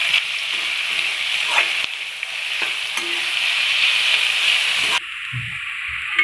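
Potatoes, onions and chowmein ingredients fry and are stirred in a pan for egg chowmein, a steady close sizzle with scraping stirs that cuts off abruptly near the end.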